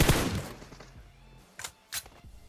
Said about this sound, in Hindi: खैर इतने में ही वहां पे गोलियां चलती हैं जहां पे हम लोग उतरे थे पहले।